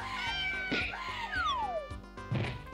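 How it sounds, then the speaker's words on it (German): A cartoonish cat in the RPG Maker 2003 game El Dorado 2 lets out a loud meow and pained yowl after being hit, over looping game music with a falling whistle effect. "Auf die Katze draufgehauen."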